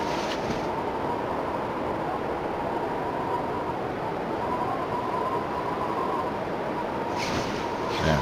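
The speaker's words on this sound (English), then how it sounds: "Yeah, doesn't sound like the wind has died down any." Howling wind in The Long Dark fills the whole stretch as a loud, steady roar with no breaks and no voices.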